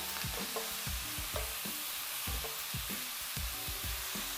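Zucchini noodles with shrimp stirred in a sizzling pan for a spicy paleo spaghetti, a soft steady sizzle broken by repeated rhythmic scrapes and clinks of a utensil against the pan.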